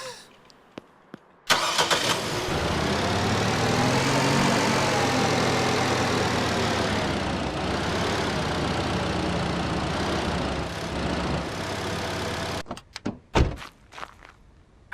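A car engine in the Car Dealer Simulator video game cranks over with a thunk, then settles into a steady, loud, rough idle running unbroken for about eleven seconds before cutting off, followed by a few sharp knocks.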